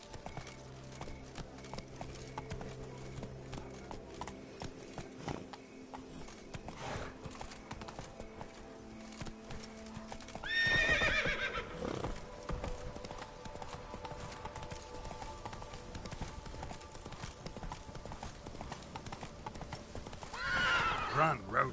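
A horse in The Witcher 3 video game clip-clops along at a steady pace, its hoofbeats close and continuous, with a couple of neighs rising above them and speech heard over the hooves.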